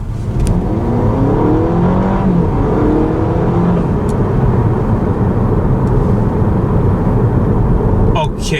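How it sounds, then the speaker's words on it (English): Honda Civic engine accelerating from a roll during a test drive in normal mode, a loud steady road-and-engine roar filling the cabin throughout, with a person talking over it. "So, put it on drive, and we roll. Okay, so, we're going to accelerate."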